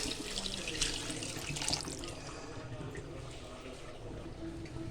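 Tamarind water poured into a pot of rasam during home cooking, a steady splashing pour that runs for about five seconds, fuller in the first two seconds and then settling into a softer continuous trickle.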